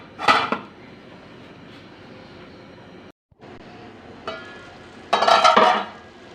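Rice is stirred in a cooking pot of boiling water for khichdi, with a scraping metallic clatter at the start and another louder burst of spoon-on-pot scraping near the end. Quiet simmering fills the gap between them.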